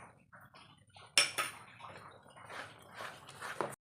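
Ragi and ghee are stirred quickly in a pan while making jackfruit halwa, giving close, faint scraping, squelching and clinking of a spoon against metal in short, uneven bursts.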